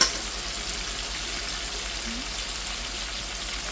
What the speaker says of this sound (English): then we're just going to let this fry for about 5 minutes on one side